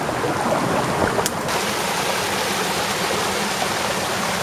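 A river swollen after heavy rain rushes past close by, a dense, loud and continuous roar of flowing water with no pauses and no voices.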